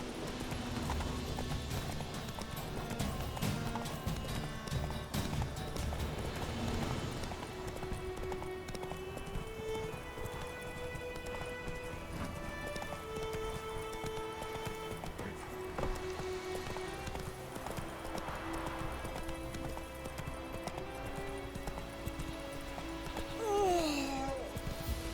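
The horse Roach gallops in The Witcher 3, steady clip-clop hoofbeats running under game music throughout, with a brief whinny-like sound near the end.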